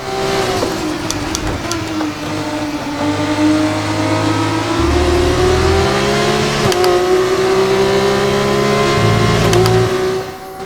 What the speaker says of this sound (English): I like that you can hear the turbo spool and you can hear the turbo flutter.